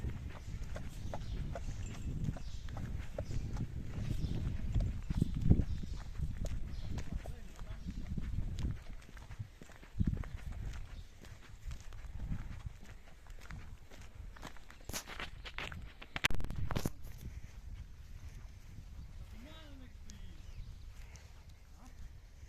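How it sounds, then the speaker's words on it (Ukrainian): Percheron horses wander loose around a farm, hooves thudding and clip-clopping on the ground at varying distance, with people talking through much of it and a few sharper knocks. "збираємо коні по території."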